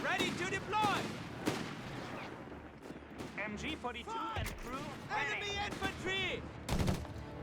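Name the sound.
grenades and gunfire in video game Company of Heroes 3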